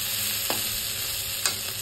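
Roti frying in a hot pan amid a quick home breakfast rush, a steady low sizzle with two soft stirring or flipping scrapes as the bread is turned side to side.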